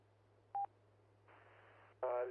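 Telephone tones cut into an amateur radio net: a short two-tone beep, then a stretch of hissy static and a burst of harsh noisy tones, faint and alone.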